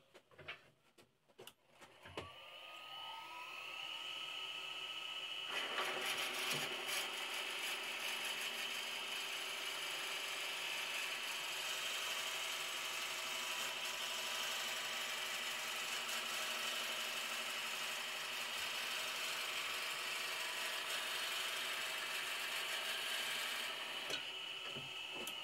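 Drill bit boring into wood on a lathe while making a lidded box, a steady grinding, rasping whir that starts after a few seconds and runs continuously at close range before cutting off near the end.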